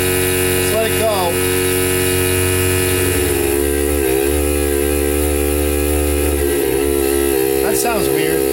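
An old Worthington air compressor motor runs loudly and continuously with a steady mechanical buzz and hum, while people talk over it.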